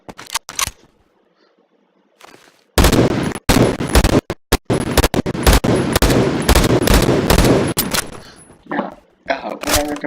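An AK-12 BR battle rifle fires in Phantom Forces, loud rapid bursts that empty the magazine in a dense stream after a few isolated shots and a brief pause, ending with trailing mechanical clatter.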